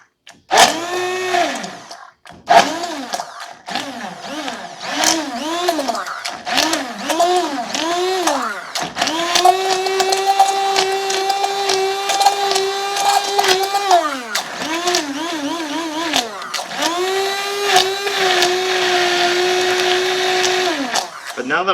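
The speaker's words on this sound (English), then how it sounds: "I have to keep moving the blender over the berries" A blender motor whirs close up in short bursts while pureeing strawberries, its pitch dipping and rising under load, then runs in longer steady stretches.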